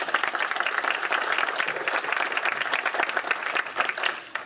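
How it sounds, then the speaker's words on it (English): Audience at a youth work awards ceremony applauding special guests, an even roomful of clapping that runs steadily and fairly loud from start to finish. "Let's give them a round of applause."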